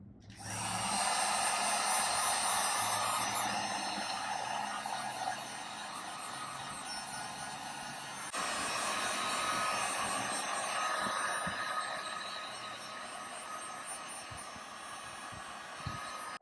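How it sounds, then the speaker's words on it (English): A heat gun blowing hot air onto a boot guard piece for a Kawasaki ZX10R motorcycle, a loud steady roaring whoosh that runs nearly the whole time, close by, with a brief dip midway. "we got our heat gun right here. We're gonna go ahead and heat up the boot guard piece"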